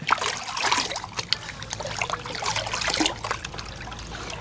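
Fermented fruit liquid being poured into about twenty litres of water, a close trickling splash with bubbly gurgles that fluctuates over several seconds, fairly loud and without speech.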